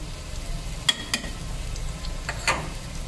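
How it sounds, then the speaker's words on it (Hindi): A ginger, garlic and green chili paste frying and crackling in a pan, with occasional clinks and scrapes of a spoon stirring; nobody speaks. "ये देखिए अदरक लहसुन हरी मिर्ची का पेस्ट डाल के मैंने थोड़ा भून लिया है।"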